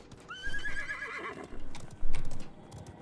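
A horse in the video game Realm Royale neighs in a rising then shaky whinny, followed by quick hoof clops, close and moderately loud, with no talking over it.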